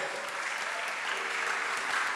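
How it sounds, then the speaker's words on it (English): A teen conference audience claps for a girls' high school named in a school ranking, steady distant applause throughout, even and unbroken. "let's clap for our Ladies Girls High School"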